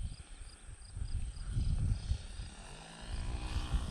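SIG Kadet Senior RC model airplane engine on landing approach with full split flaps, a faint distant buzzing drone that rises and falls as throttle is worked, with light outdoor background noise.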